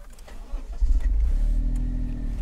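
A Honda S660 engine cranking and catching, then settling into a revving idle, a close, rising mechanical note with a brief churn before it fires.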